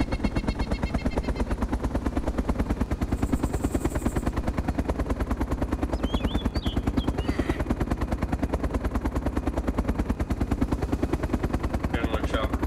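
A helicopter approaches in Arma 2 DayZ Overpoch, a steady rapid rotor chop droning loudly throughout, with faint game effects flickering above it.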